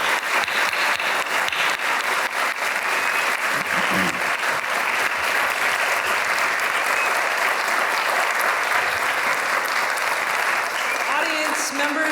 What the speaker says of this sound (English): we'd like to just give you one last round of applause.